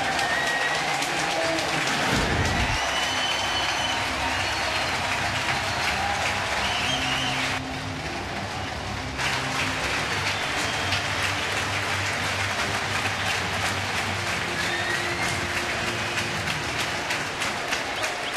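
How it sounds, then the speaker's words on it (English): Crowd at a Mets home game against Miami in September 2012 gives R.A. Dickey a sustained ovation, steady cheering and applause across the stadium with a continuous roar and little break. "another ovation from this crowd"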